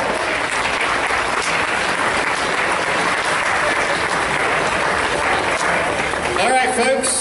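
Audience applause fills the room after a lot sells for $300 at a charity auction, a dense, steady clapping held at the same level throughout, with a few louder claps and voices surfacing near the end.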